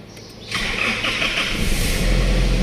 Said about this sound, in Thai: ฟังเสียงเครื่องยนต์กันหน่อยนะครับ